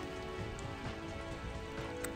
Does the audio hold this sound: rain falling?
yes